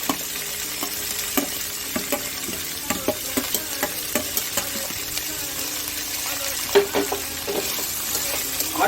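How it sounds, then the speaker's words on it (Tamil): Chicken fries in ghee with raw mango and green chilli, a continuous close sizzle punctuated by repeated scraping and clinking of a spoon stirring through the pan. "ஆட் பண்ணிவிட்டு நல்லா அந்த நெய் கூட நல்லா ஃப்ரை பண்ணிக்கோங்க"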